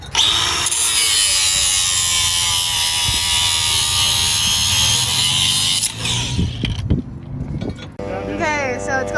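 A power grinder whines steadily and loudly during finishing work on a metal bracket at a racing event, then cuts off near the end, leaving clattering handling noises.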